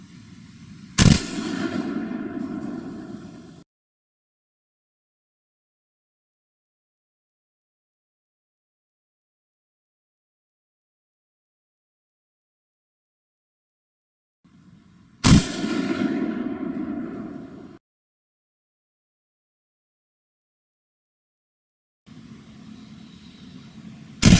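Two loud rifle shots about fifteen seconds apart, each a sharp crack followed by a few seconds of rumbling echo, from a 7.62x39 rifle firing Norinco and Tula steel-core ammunition in an outdoor penetration test, with a third crack at the very end.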